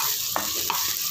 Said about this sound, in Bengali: এবার এটাকে হালকা ফ্রাই করবো